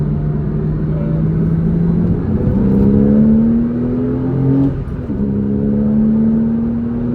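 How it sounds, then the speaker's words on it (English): A 987.1 Porsche Cayman S engine hums from inside the cabin, its pitch climbing steadily as it accelerates from second gear through a gear change, then rising again. "I'll give it a little bit of acceleration in a minute just so you can hear the engine"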